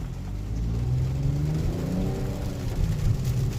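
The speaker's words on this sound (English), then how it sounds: "I'm gonna go ahead and give it some throttle here" A Mitsubishi Outlander AWC pulls away from a stop in rain, its engine note rising steadily as the throttle opens, a close, continuous hum and whir from inside the cabin.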